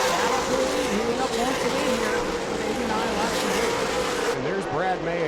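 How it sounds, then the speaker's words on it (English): Race car engines whine continuously at high revs, pitch rising and falling as the cars circle a banked oval at New Smyrna during the 2025 Governor's Cup, with a commentator talking over them. "His car moves up, comes down the banking, and Cole Butcher cuts him off that time in turn 4."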